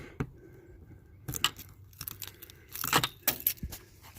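A ring of keys jangles and clinks in short bursts while being dug out by hand beside a camper trailer, a few separate rattles at first, then denser metallic jingling up close, no voices.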